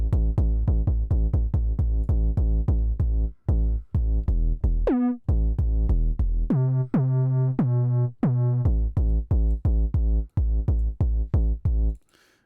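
A synthesizer patch with a touch of added noise plays a sequenced pattern of short, plucky, pitched hits in a steady rhythm, with a few longer sustained tones in the middle, loud and clean with no talking.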